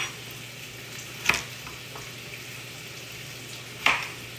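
Vegetables for beef bourguignon searing in a hot pan, a low steady sizzle with two sharp clatters as they are stirred, close and without talk.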